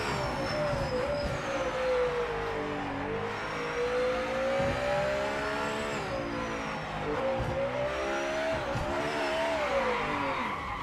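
A GT500 race car in the Project Motor Racing sim, its engine droning loud and steady the whole time, revs rising and falling through gear changes, with faint tire squeal at moments.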